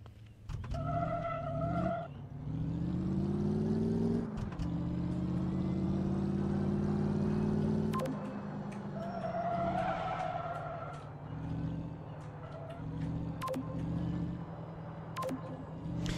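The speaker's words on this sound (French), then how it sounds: "ça va déraper, donc je vais essayer de conduire à peu près correctement" A rear-wheel-drive car driven in the game Car Mechanic Simulator 2015, its engine droning with shifting revs and tire squeal as it slides, steady and sustained for the whole stretch, no voices.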